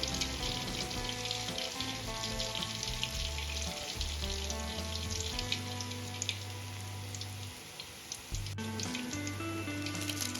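Boondi, tiny gram-flour droplets for motichur laddu, fry in hot oil with a dense, crackling sizzle that carries on steadily. A low tonal hum runs underneath, and there is no speech.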